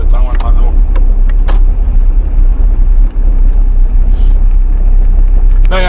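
Steady loud road rumble from inside a moving car, a continuous low drone with small bumps, and brief voice fragments near the start and end.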